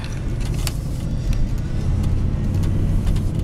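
A regular cab, short-wheelbase pickup truck pulls away and drives through city streets. Its engine keeps up a steady low rumble with road noise, and a few faint rattles and clicks sound now and then inside the cab.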